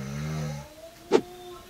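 A father asleep at home snores with one deep, rumbling drawn-out breath that trails off, followed after a pause by a short loud snort, close by in a quiet room.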